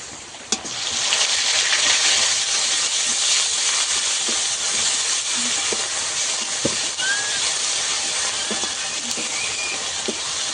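Onion paste frying in a pan for a spiced fish dish: a loud, continuous hiss and sizzle close up, broken by light clicks and scrapes as it is stirred.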